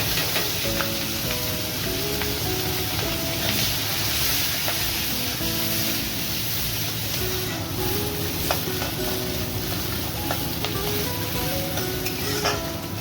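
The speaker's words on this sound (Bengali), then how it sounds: "সর্ষের তেল ওই তেলেতে পেঁয়াজ আর চারটে কাঁচা লঙ্কা দিয়ে দিলাম ভেজে নেব পেঁয়াজগুলো" Onions and four green chillies fry in mustard oil, producing a loud, continuous close-up sizzle with occasional light spatula scrapes and clinks against the pan, no voices present.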